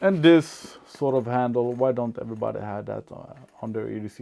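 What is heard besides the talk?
None of the usual background noises is heard.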